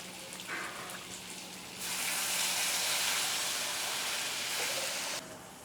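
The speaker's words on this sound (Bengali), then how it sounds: "এবার এতে আমি অল্প একটু জল দিয়ে দেবো।" Water poured into a hot pan of fish-head and greens curry with turmeric and green chillies, setting off a loud, steady hiss and sizzle that lasts several seconds before cutting back to a quieter simmer.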